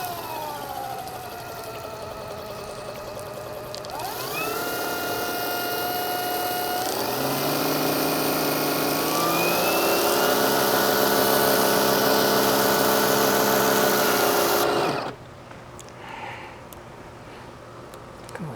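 A battery-powered EGO 4-gallon backpack sprayer running on its lowest setting gives a steady motor and pump whine that shifts pitch in steps, close and continuous, then cuts off near the end.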